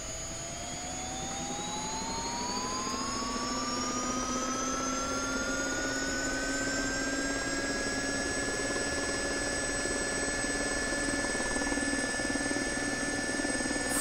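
A simulated SA342J Gazelle helicopter in X-Plane 11 runs its turbine up to full power, with a loud, steady whine climbing in pitch over the first seconds and then holding under a continuous rotor and engine roar.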